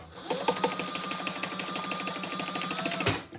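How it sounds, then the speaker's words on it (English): A sewing machine stitches through a nylon trifold wallet, running in a steady, fast rhythmic chatter close to the microphone for about three seconds before stopping abruptly. "I gotta stitch this down"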